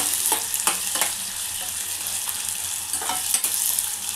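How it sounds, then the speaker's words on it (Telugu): Sliced onions frying in hot oil in a pan, a close continuous sizzle broken by a few stirring scrapes, short and with no voices. "ఈ ఉల్లిగడ్డ మంచిగా ఇట్లా ఫ్రై కావాలి"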